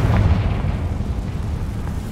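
A Confringo fire-blast spell exploding in Hogwarts Legacy, a deep rumbling boom with a dense low roar that holds steady and loud for a couple of seconds, with no voices.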